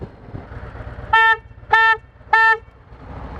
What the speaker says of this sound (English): that horn is loud on the new Road Glide